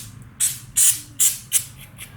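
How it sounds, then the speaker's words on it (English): Chain lubricant sprays onto the chain of a 2014 BMW S1000R motorcycle in four short, sharp hissing bursts, close and distinct, with brief pauses between them in a quiet garage. "You can see how the spray comes out pretty fast."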